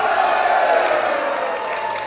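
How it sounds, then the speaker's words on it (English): A wrestling crowd at a Relentless Wrestling indie show roars and chants in a steady, dense wash of voices, loud and continuous throughout. "Half are chanting his name, half are saying one more time."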